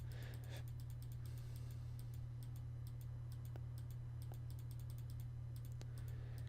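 Steady mouse clicks while crafting items in modded Minecraft, irregular sharp ticks spread across a few seconds over a constant low electrical hum, close and quiet, no voices.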